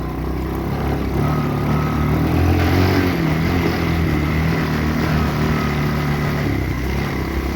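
Engine of an old Chinese ATV running while being driven, a steady droning putter that holds a constant, fairly loud level from start to end.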